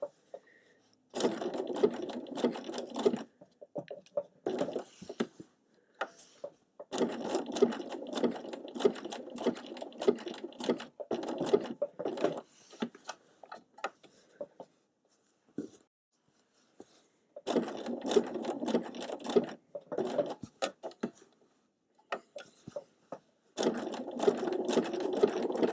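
A sewing machine runs a satin stitch around tulip shapes in rapid bursts of dense, steady stitching. The bursts run for a few seconds each, with brief pauses between them while the fabric is turned.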